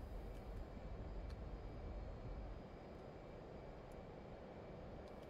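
An F/A-18C jet roars steadily through its takeoff run in the DCS flight simulator, a loud continuous engine rumble with no break.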